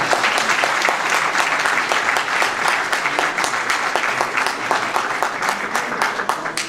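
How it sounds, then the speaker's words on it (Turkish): A hall audience applauds loudly and steadily throughout, dense clapping with no talk over it, at a Turkish gathering honoring magazine managers. "kendinizi alkışlamanın zevki ve sefasını lütfen bir daha sürdürünüz"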